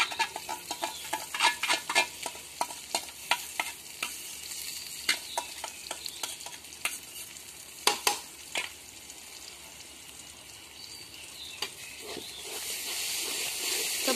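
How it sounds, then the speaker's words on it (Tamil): Ground tomato sautéed into goat intestine gravy, a steady sizzling hiss with repeated scraping stirs of a spoon against the pan, rhythmic and close. "இப்போ வந்து நம்ம தக்காளி வந்து அரைச்சி வச்சுருக்கோம் தனியாக, அதை நம்ம சேர்த்துக்கிட்டு அதையும் நம்ம நல்லா வந்து வதக்கிக்கலாம்."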